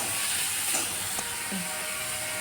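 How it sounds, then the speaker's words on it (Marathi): Semolina or vegetables sautéing in oil in a pan with salt added, a steady close hiss and sizzle running evenly throughout. "याला छान आता परतून घेऊया"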